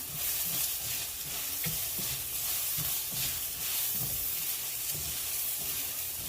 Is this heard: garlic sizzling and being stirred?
yes